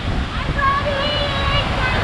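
Loud, steady roar of a rushing river beside a mountain road in Georgia on the way to Mestia, a dense continuous wash of water noise with a faint voice underneath.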